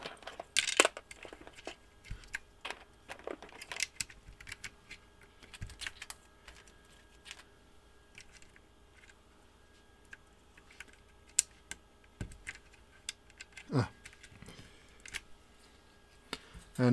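Fingers type on a Noxary 268 mechanical keyboard with Ergo Clear switches, giving quiet, irregular clacks and taps in uneven bursts with pauses between them, close and soft against a faint room hum.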